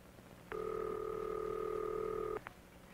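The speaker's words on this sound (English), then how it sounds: "listen for the ringing signal" A 1954 telephone ringing signal heard after dialing: a single steady two-tone ring lasting nearly two seconds, clear and moderately loud, starting and stopping abruptly over a low line hum.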